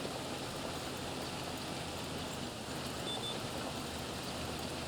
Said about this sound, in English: it is raining quite heavily